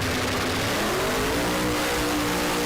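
A 2015 Camaro drag racing car's engine revs and accelerates hard down the strip, a loud, rising mechanical roar with climbing pitch, heard fairly close and alone.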